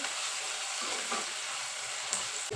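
Onion and tomato roasting in a pan on a high flame, a steady close hiss and crackle of frying with a brief clink near the end, no talking.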